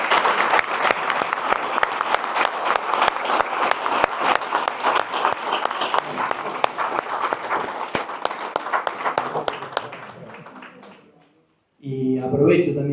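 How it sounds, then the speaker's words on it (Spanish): Loud, sustained applause from an audience in a council chamber, dense clapping running for about eleven seconds before breaking off, followed by a voice speaking. "Así que un fuerte aplauso."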